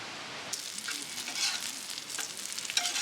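Bacon sizzles on an RV griddle at a campsite, producing a continuous hissing crackle with sharp pops and spits near the end, close and steady with no talking.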